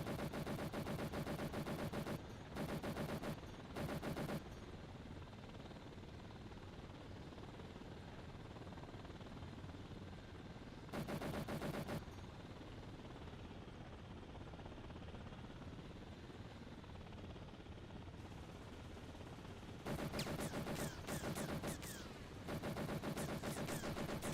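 Helicopter gunfire in the Thunder Helix combat game: bursts of rapid machine-gun fire ring out at intervals over a constant loud rotor drone, with a long stretch of engine noise between volleys.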